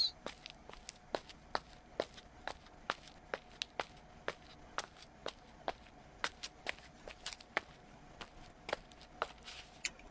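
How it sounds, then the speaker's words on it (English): Footsteps echo through empty halls in the horror video game Nightmare at Freddy's, a steady run of sharp, evenly spaced steps over a faint low hum, with no voices. "Spooky with those sounds, just your footsteps."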